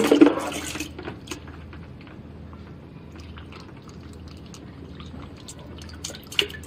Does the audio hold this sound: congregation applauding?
no